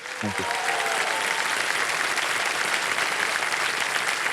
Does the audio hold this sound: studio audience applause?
yes